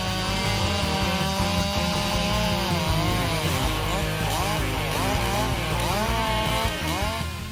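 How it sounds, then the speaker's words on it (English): A Stihl MS400CM chainsaw cuts through wood with a loud, continuous engine roar whose pitch dips and rises as the chain bogs into the cut, close by and without pause. "The Stihl MS400CM saw is truly a powerful tool that cuts wood quickly and efficiently."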